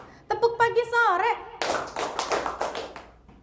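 A group of teachers plays a rhythmic clapping game, first chanting in a sing-song voice, then giving a quick run of sharp, patterned hand claps and taps in unison that tail off softly.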